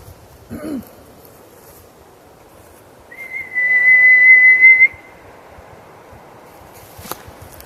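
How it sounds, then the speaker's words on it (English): A single sustained whistle tone holds steady for about two seconds outdoors, preceded by a brief rustle and followed by a sharp click. "Sound like a whistle straight up that way."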